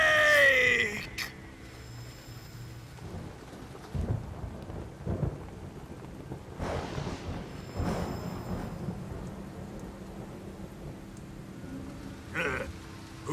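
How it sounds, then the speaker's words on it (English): Thunder rumbling through a storm in the stealth game Metal Gear Solid 3: Snake Eater, with a loud crack at the start, then low rolling rumbles and rain-like hiss, plus a few further swells and a sharp burst near the end. "Who's afraid of a little thunder?"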